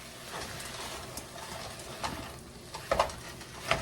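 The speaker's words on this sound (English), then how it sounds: "Stir it up and ground up." Ground sausage and vegetables are stirred in a hot pan: a faint sizzle with scraping spoon scrapes and clinks against the pan, getting sharper near the end.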